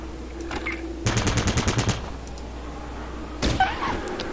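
Gunfire from the tactical game Fallout Tactics: a rapid automatic burst of about eight to ten sharp shots, then a single loud shot a couple of seconds later, over quiet game ambience.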